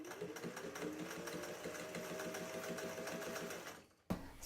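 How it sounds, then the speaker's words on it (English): A sewing machine runs steadily, its needle pounding in a fast even rhythm as it joins strips of interfaced fabric, close and continuous before stopping abruptly near the end. "now I'm just gonna sew them together"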